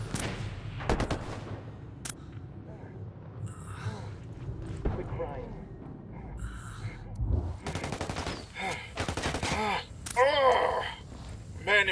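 Heavy gunfire in the video game Ghost Recon Wildlands: loud, sharp bursts and rattling volleys come in irregular clusters, with game voices speaking between and over the shots.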